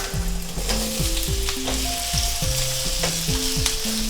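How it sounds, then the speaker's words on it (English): Red potatoes fry in hot oil, giving a steady, close sizzle that holds at an even level throughout, with music playing over it. "The potatoes I'm using are red potatoes because they're best for frying like that"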